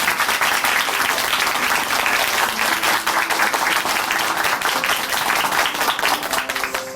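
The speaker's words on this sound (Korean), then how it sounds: "다시 한번 이화영 자매님께 감사의 박수 부탁드릴게요" A church congregation at Chuncheon Hanmaeum Church applauds warmly, sustained dense clapping from many people filling the room evenly for several seconds.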